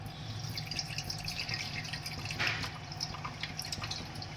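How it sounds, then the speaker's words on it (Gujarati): Water drained off soaked dosa batter ingredients into a second vessel in a kitchen, a faint steady trickle with soft drips and no talk. "આપણે અહીંયા એક બીજું વાસણ લીધું છે, એમાં આપણે કાઢી નાખવાનું છે પાણી"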